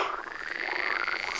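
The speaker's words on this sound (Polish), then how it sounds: "Jak nie zarechocze." A frog croaks in one long, loud, rattling call that runs through the whole moment, close by and with no talk over it.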